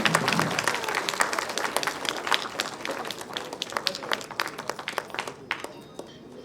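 Dense, sustained audience applause at a Kannada film song-release event for Phoenix, many hands clapping at once and fading slightly toward the end.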